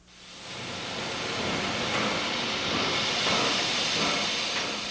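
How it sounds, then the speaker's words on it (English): A restored steam locomotive, once dead and now running again, gives off a loud, steady roar of hissing steam that builds quickly and holds for several seconds with no talking over it. "the ride he took with reporter Bill Hudson on a once-dead steam engine."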